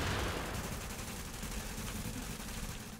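Dense, continuous light machine gun fire in The Division, loud and sustained throughout a firefight with rapid overlapping shots and no pauses.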